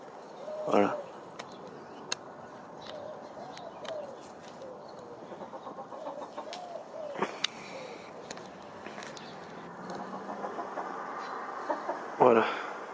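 Hens, including a black hen and an old blue hen, cluck and coo softly in a snowy poultry yard, with a few sharper calls near the start and end; faint, with quiet background noise.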